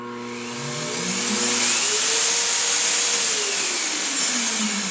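A disinfection fogging machine runs at full air pressure, a steady motor-driven hiss and whine that swells slightly louder partway through and holds, with a low hum that shifts in pitch as it settles.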